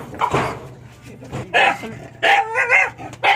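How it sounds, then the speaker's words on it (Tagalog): A dog barks a few times in short bursts, with some whining yips between them, close by, alongside a person speaking. "So, may aso."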